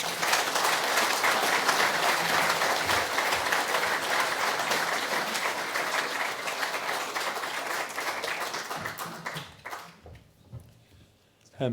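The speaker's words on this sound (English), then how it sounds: "I'd like you to give a big round of applause to Taoiseach Micheál Martin TD." Sustained applause from a large lecture audience, loud and dense, tapering off near the end before a brief final burst.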